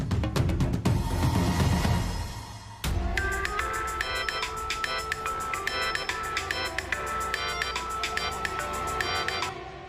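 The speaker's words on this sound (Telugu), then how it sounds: "ఒకసారి ఫోన్ చేసి చూద్దాం." A telephone rings repeatedly in a steady patterned burst sequence for several seconds, fairly faint, following a brief rumbling passage at the start, with no talking.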